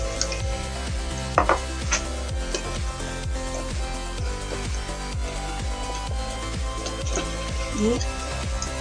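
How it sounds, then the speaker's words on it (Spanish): A spoon stirs gelatin into cold water in a bowl, producing a steady run of regular scraping ticks at a fast, even rhythm, with a few brighter clinks along the way. "En la gelatina la disolvemos en agua fría."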